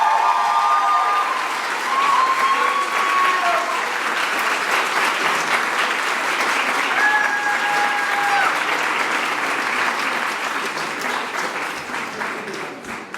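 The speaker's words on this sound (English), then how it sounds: "How about another round of applause, everybody?" Sustained audience applause at a Foster Care Month luncheon on Capitol Hill, a dense, loud wash of clapping from a large room that continues steadily for over twelve seconds, with a few faint whistles mixed in.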